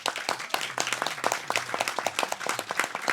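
A modest group applauds students from the Hugo Treffner gymnasium at a panel discussion. The clapping is close and fairly sparse, with distinct individual claps in an uneven rhythm over a faint hum.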